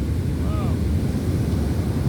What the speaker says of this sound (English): I think maybe this will be the last big wave here